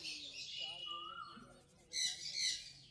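Zebra finches at the Garia bird market give soft, nasal chirps and squawks, followed by a brighter burst of twittering near the end, with some talk in the background.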